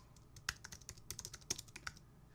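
Rapid typing on a computer keyboard, a steady run of close, crisp key clicks with a few harder strikes, quiet and alone.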